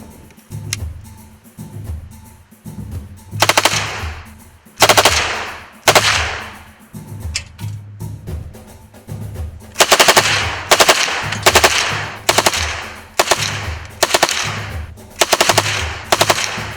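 Communist-bloc machine guns, Kalashnikov-type arms among them, fire live in a string of loud, sharp bursts, some short and some sustained, separated by brief pauses and growing denser toward the end.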